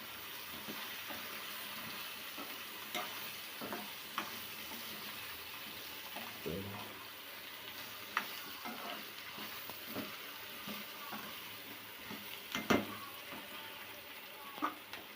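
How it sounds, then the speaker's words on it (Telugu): Okra frying in a pan for curry is being stirred: a soft, quiet sizzle runs throughout with scattered light scrapes and clinks of the spoon, faint and unaccompanied by speech. "ఇప్పుడు బెండకాయ మొత్తం కలుపుకుందాం"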